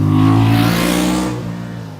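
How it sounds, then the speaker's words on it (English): A motorcycle engine roars close by at full throttle with a rising pitch during a wide-open pass-by noise test, then fades slightly as it moves past. "motorcycles must ride at 30 miles per hour in second gear, then accelerate wide open past a microphone"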